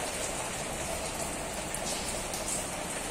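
Heavy rain pours down steadily in Mehsana, Gujarat, with water coming into an office; a dense, continuous hiss of rainfall and drops on surfaces fills the scene with no talk.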